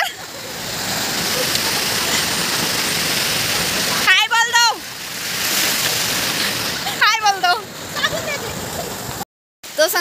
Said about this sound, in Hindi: तो संगवारी हो अतिक पानी गिरत है